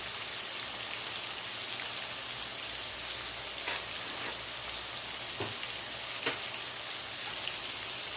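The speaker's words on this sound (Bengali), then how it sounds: "তো এইভাবেই আরেক পিঠ ভেজে নেব, যেরকম হালকা ভেজেছি।" Food fries steadily in a hot pan after being turned to cook the other side, a continuous soft crackling sizzle with a few sharper pops and spits.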